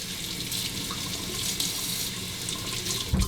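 Tap water runs steadily into a sink as shaving cream is rinsed off a 3ONE6 razor, a loud, continuous splashing stream with a brief knock near the end.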